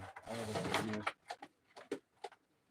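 Young white-capped pigeons give a soft, fairly faint cooing at a live pigeon auction, followed by a few short scattered sounds.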